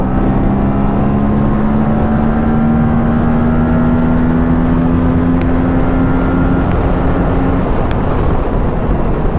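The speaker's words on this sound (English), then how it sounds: "I just gun the throttle and the bike disappears." An Aprilia RS 457 motorcycle accelerates hard at full throttle along an open stretch. Its engine note climbs steadily for several seconds, loud and close, over constant wind roar.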